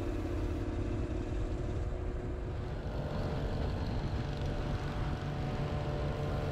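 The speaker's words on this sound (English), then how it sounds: "we can hear the Norton over the sound of the bike that I'm sitting on" A 1982 Yamaha RD 250 LC two-stroke with aftermarket expansion chambers idles alongside a Norton motorcycle, making a steady, continuous engine drone with no breaks.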